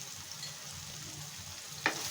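Eggplant pieces seasoned with salt and turmeric fry in a pan with a steady, soft sizzle throughout, close and even, with a brief sharp clink near the end.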